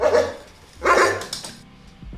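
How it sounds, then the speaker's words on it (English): A dog barks loudly and close, two sharp bursts about a second apart followed by a softer third yip, with no voices. "So let's just say you got a dog barking,"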